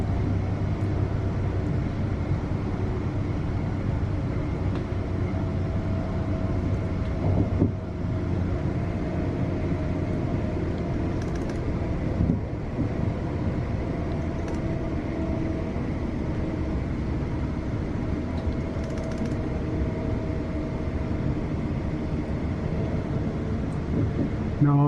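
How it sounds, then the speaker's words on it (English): A long car carrier freight train rumbles through Bedford station steadily for a sustained stretch, a constant heavy roll with occasional clanks and squeals. "There's the car train as promised."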